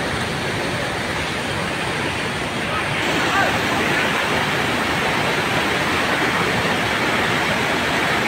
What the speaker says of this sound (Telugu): శివాలయం నుంచి వచ్చే నీరు ఇది